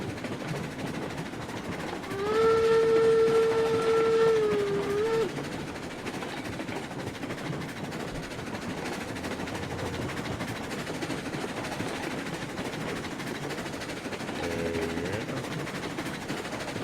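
Steam locomotive in RailRoads Online climbing a hill while hauling empty cars, a steady rumbling chug with a long whistle blast early on and a shorter toot near the end.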